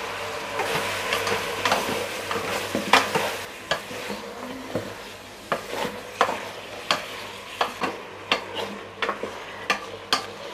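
Mutton sautéed with whole garlic cloves in a pan, soft sizzling under a series of sharp, irregular scraping and clinking stirs of a utensil against the pan.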